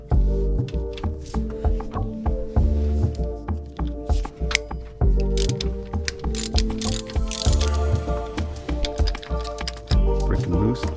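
A ratchet breaks loose two 50 mm bolts during an alternator install, giving rapid, close pawl clicking in repeated bursts with a few heavier clunks between strokes.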